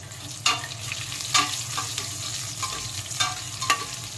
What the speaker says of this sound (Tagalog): Sabayan natin sa paggisa.